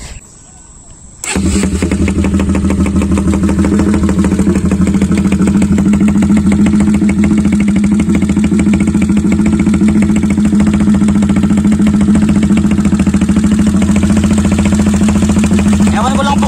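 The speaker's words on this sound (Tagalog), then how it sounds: "Naririnig nyo po yung lagatik ng cam nya." A Bajaj NS200 motorcycle engine with an aftermarket pipe starts and settles into a loud, steady idle with a rapid, continuous camshaft ticking running through it.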